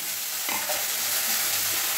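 Vegetables, bitter gourd among them, fry in a pan on a kitchen stove, a close steady sizzle with a few stirring scrapes and no talking.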